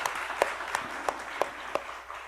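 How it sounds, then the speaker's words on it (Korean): An audience in a church claps during a Wednesday evening worship service, a steady rhythmic run of claps about every third of a second, moderately loud over a soft crowd murmur. "우리 뜨거운 격려 박수 해주시기 바랍니다"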